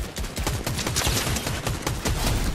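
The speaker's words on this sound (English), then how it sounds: "Lots of gunfire over here." Rapid bursts of automatic gunfire in Fortnite crackle continuously, dense and loud, with overlapping shots throughout.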